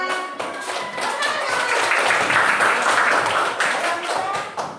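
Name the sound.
applause for Mirza in a classroom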